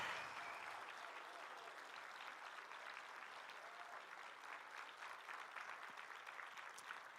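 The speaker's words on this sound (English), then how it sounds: "let's have one more enthusiastic round of applause for all of the award winners this evening" Sustained applause from an audience at a 2021 International Baccalaureate awards show, honoring award winners; a steady, fairly soft wash of clapping that holds evenly throughout.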